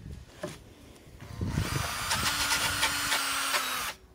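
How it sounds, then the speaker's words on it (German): A cordless drill fitted with a hook-and-loop sanding attachment whirs steadily for about two and a half seconds after a few brief knocks and handling sounds, close by and then cutting off. "So einen geilen Klettaufsatz für den Akkuschrauber."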